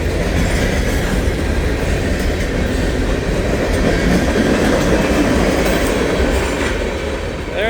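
Freight trains roll past in the rain, a loud continuous rumble of wheels with clickety-clack rhythm and occasional squeal, close and steady throughout with no talk.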